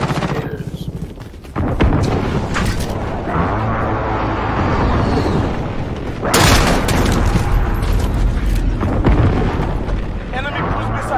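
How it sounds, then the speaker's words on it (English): Precision airstrike explosions in Call of Duty: Modern Warfare arrive as loud, dense, overlapping booms and rumbling blasts with gunfire crackle, and a burst of renewed impacts about halfway through, while a voice talks over the barrage. "Friendly precision airstrike on the way."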